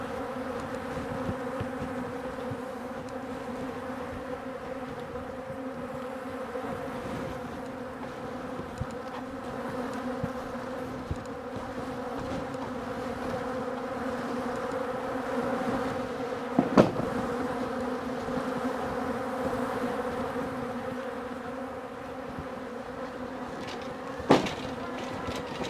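A steady mass of honeybees hums from an open backyard hive, close and continuous, with a few sharp knocks or taps breaking through the drone.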